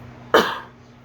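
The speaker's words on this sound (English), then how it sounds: "It wasn't a sneeze, it was a cough." A single short, sharp cough bursts out in a quiet room, close and fairly loud, then fades quickly.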